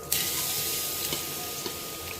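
Gram flour mixture roasts in a pan while being stirred continuously, a steady close sizzle and hiss with a few scraping knocks from the utensil, with no talk.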